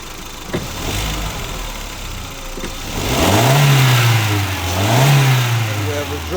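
A 2005 VW Jetta 2.0 with a lean-running fault idles steadily, then is revved twice in quick snap-throttle bursts, each rising and falling in pitch, heard up close with faint voices in the background.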